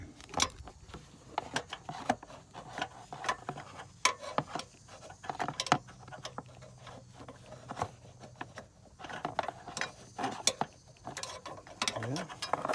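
Ratchet clicks in short irregular bursts while loosening a hose clamp in the engine bay of a Honda Odyssey being worked on for an alternator problem, close and fairly quiet with mechanical knocks between.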